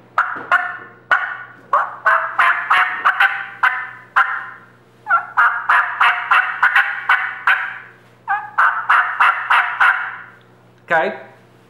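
A turkey call mimics a very excited wild turkey hen, running loud, close strings of fast yelps and cutts in long, urgent bursts broken by brief gaps, ending on a sharp cluck.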